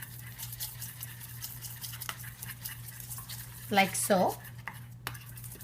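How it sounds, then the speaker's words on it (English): A spoon stirs melted dark chocolate in a bowl for Nutella-filled baked doughnuts. Quiet, soft scraping strokes build to a couple of louder clinking stirs near the end, and a voice speaks briefly. "going to stir it well"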